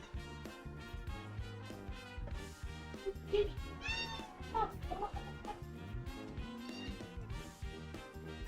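A house cat meowing repeatedly in a cabin, plaintive cries rising over steady background sound.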